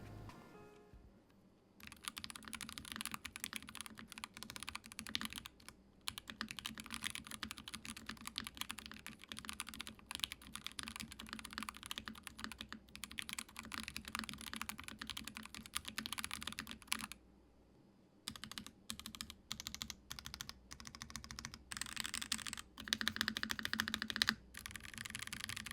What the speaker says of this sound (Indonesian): Dari typing testnya tadi mungkin kalian nggak ada komplain dengan suaranya,